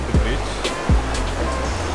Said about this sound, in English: there is this river which is flowing down the bridge